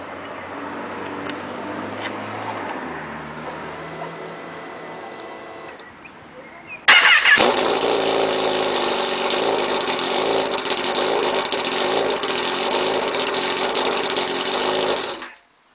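A 2011 Kawasaki ZX-10R sport motorcycle's engine turns over with a starter whir, then abruptly catches and settles into a steady, loud, close idle that runs for several seconds before cutting off.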